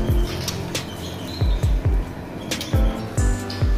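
A murai trotol magpie-robin sings in short, sharp repeated chirps and downward-swooping whistled notes, close and loud, in a rhythmic burst of calls.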